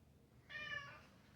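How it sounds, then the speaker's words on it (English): A single short cat meow, close and fairly clear, rising and falling over about half a second in a quiet room, followed by a brief sharp noise. "we've summoned the cat"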